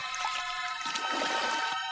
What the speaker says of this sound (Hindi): मोहन कागज पर पानी डालता है और स्याही फैलने लगती है।